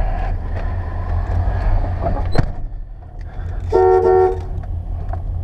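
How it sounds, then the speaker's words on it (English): A 1989 Chevrolet C/K 1500 4x4 step-side pickup sounds its horn: a short toot, then a louder, sustained honk of about half a second, over a low idling rumble. "horn works."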